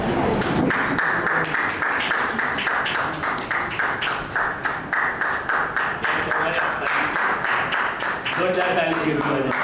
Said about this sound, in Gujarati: જોરદાર તાળી દીધી